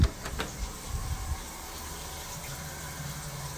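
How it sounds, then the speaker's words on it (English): A shower runs in a bathroom, giving a steady, soft hiss of falling water that continues evenly after a few louder knocks and rustles at the start. "we're going to turn the shower on for like 10 minutes"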